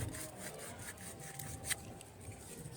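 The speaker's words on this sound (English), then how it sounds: "You can wet sand it, but if any one of them proves tough, you can use the one that is more coarse to get it off" Coarse sandpaper is rubbed back and forth over a rusty AC compressor, giving a steady, faint rasping scrape in short repeated strokes with a brief sharper scratch near the end.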